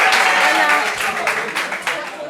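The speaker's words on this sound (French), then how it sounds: "Applaudissements pour Lorou" A group at a gathering gives a brief burst of clapping for a man named Lorou, a few seconds of close applause mixed with talking voices.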